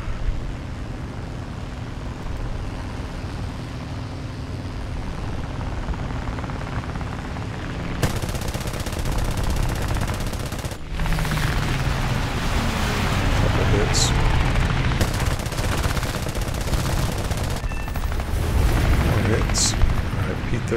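Aircraft guns on a J6B fire in bursts during a War Thunder air arcade battle, layered over a steady engine roar and whooshing wind, with someone talking over the loud, dense mix.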